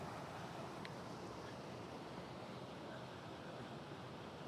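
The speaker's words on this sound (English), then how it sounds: "This is the waterfall that comes down." A waterfall pours down in the wild near Glacier along the Continental Divide Trail, a steady, dense, broadband rush of water that never varies, heard from some distance, with no voices.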